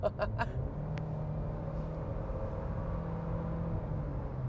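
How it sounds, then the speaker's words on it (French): A car engine hums and rumbles steadily at moderate distance while accelerating onto a highway, after a few short bright clicks at the start, with no voices. "je vais te laisser entendre le son de l'accélération"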